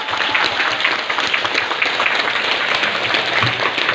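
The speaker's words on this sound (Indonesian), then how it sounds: "Tepuk tangan dulu dong." A crowd of mall visitors, including children, applauds continuously in an indoor shopping mall, a dense even patter of many hands throughout.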